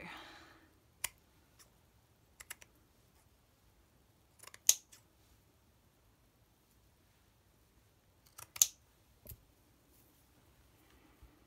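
Scissors snip through a section of embroidered trim in a quiet room, with a few sparse crisp clicks and cuts, one near the start and small clusters near the middle and end.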